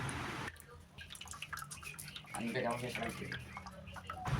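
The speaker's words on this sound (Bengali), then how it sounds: "তার জন্য প্রথমে আমি বেলটাকে বের করে গামলায় জল দিয়ে এবার ভালো করে মিশিয়ে বেলের রসটা ছাঁকনির সাহায্যে ছেঁকে নেব" Wood apple pulp stirred into water in a basin and strained through a sieve, with soft watery sloshing and dripping at low level, partly under talking.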